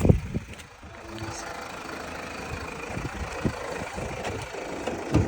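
A 2016 Mazda CX-5 with a 2.2 diesel engine, all-wheel drive and about 203,000 km on it idles with the hood open, giving a steady moderate rumble with light clatter and occasional small knocks.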